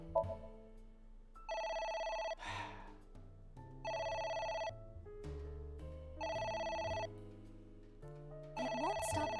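A telephone rings in the AI: The Somnium Files video game, sounding as four loud, evenly spaced electronic bursts over a bed of game music, with no one speaking.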